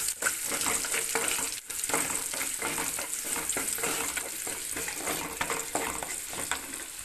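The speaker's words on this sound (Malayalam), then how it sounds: "അത് ഒന്ന് നല്ലതായിട്ടൊന്ന് മൂപ്പിച്ച് എടുക്കണം" Garlic and curry leaves frying in a pan give a continuous close hiss and sizzle, broken by regular soft scraping strokes from stirring.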